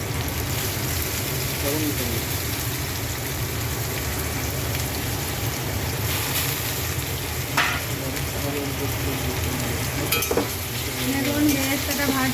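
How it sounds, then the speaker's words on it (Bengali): Sliced onions fry for chicken biryani, making a dense, steady sizzle and crackle in hot oil close by, with occasional stirring scrapes and faint background voices. "এখন বেরেস্তাটা ভাজছি"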